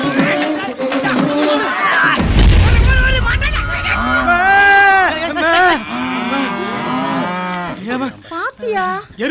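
A buffalo moos in loud, drawn-out bellows with wavering pitch, accompanied by a deep booming rumble and other animal or crowd noise.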